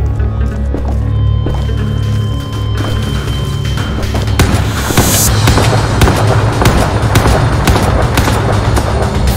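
Rapid gunshots ring out in a modded Minecraft war game, a dense, loud run of cracking shots over a constant game background, with no voices.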